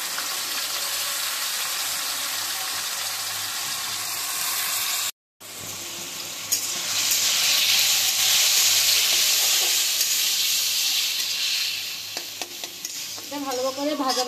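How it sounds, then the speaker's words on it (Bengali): Potatoes and carrots fry together in salted oil in a pan, giving a loud, steady sizzle with stirring scrapes throughout, broken by a brief drop to silence about a third of the way in. "আলু আর গাজরটা আমি একসাথেই ভেজে নেব।"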